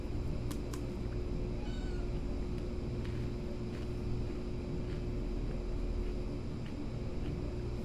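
A cat meows a few times in short, high calls over a constant low drone and hum, fairly faint against the steady background.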